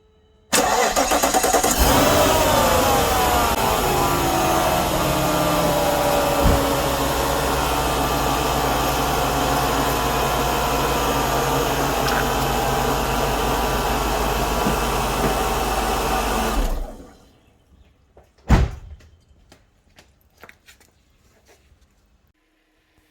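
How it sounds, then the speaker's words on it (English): A Mercedes R129 SL500 engine, run to bleed air from its ADS suspension hydraulics, cranks and starts loudly, then runs at a steady idle for about fifteen seconds before shutting off. A sharp clank and a few light knocks follow in near silence. "ran the engine for a few seconds, and it took few seconds for all the air pockets to exit this leak"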